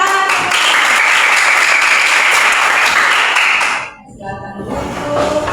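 A classroom of students clapping their hands together, loud and close for about four seconds, then stopping abruptly into quieter room noise with a few faint voices.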